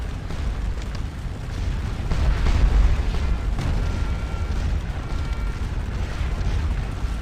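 Low rumbling booms of massed cannon fire roll through a Napoleonic battle in the video game Scourge of War Waterloo, with a heavier swell in the middle of a steady background din and no voices.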